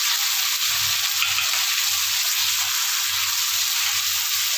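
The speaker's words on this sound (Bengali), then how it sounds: "আমি খুব ভালো করে মশলাগুলো সমেত কষাতে থাকবো" Spices and raw banana fry loudly and steadily in a pan, a dense, unbroken sizzle up close, with a soft rhythmic stirring pulse underneath.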